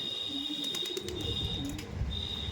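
Chini Kaldom flying pigeons coo softly in a loft, faint low calls over a steady background hum and a few brief clicks.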